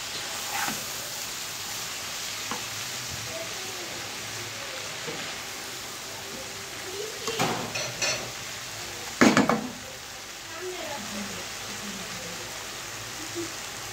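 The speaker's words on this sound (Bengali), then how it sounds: "লাল শাকটা দেওয়া হয়ে গেছে, এখন ভালো মতো নেড়ে চেড়ে নিতে হবে।" Red amaranth greens and prawns are stirred in a pan, soft scraping and occasional clinks of a utensil against the metal over a faint steady hiss, with no talking.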